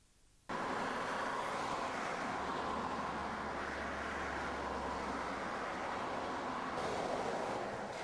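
Continuous roar of traffic on the busy Ayr bypass in Scotland, a steady wash of passing vehicles with a low engine rumble swelling briefly in the middle.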